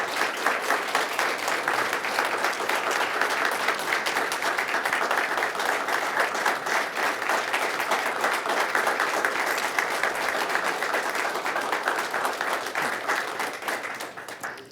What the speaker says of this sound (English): Would you please stand and give these gentlemen a round of applause?